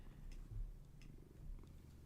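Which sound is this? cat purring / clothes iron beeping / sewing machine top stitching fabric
cat purring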